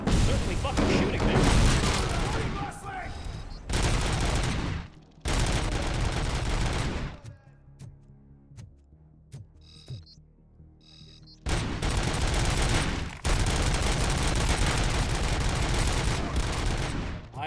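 Enemy gunfire in Robocop: Rogue City, dense sustained bursts of shots in long loud volleys, broken by a quieter lull with scattered pops before heavy firing resumes.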